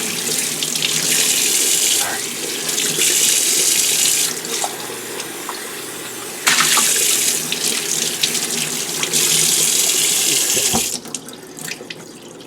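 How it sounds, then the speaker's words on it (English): Cold tap water runs steadily into a kitchen sink while a raw Thanksgiving turkey is rinsed, the hissing flow broken by a few brief shifts as the bird is moved, with no talking. "Whenever you do chicken or turkey, you always want to give it a rinse with cold water."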